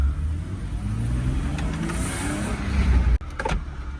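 The roof of an old 1990s German convertible opens as an electric motor whines over the idling engine, ending in a sharp mechanical clunk followed by a brief further whir.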